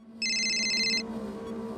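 A phone rings with a rapid electronic trilling tone lasting under a second, over a low steady hum, then stops.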